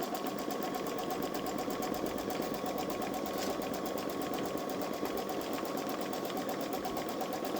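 A Babylock Solaris sewing machine stitches in reverse with a fast, even mechanical hum and steady needle rhythm, heard close and alone without any talk.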